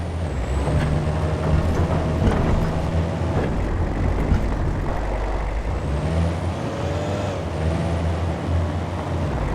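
A truck is driven in the hunting video game Way of the Hunter, giving a constant loud low engine drone with light rattles and brief hissing whines layered over it.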